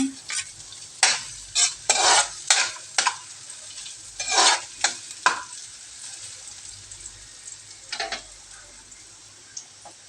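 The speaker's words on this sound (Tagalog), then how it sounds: "Tapos, ilagay na po natin ang bawang." Garlic stirred into a hot pan with ginger already cooking, giving a steady sizzle broken by a run of scraping stirs early on and a few more later.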